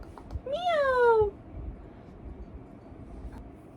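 A single clear cat meow, rising then falling in pitch, close and fairly loud over a low background hum.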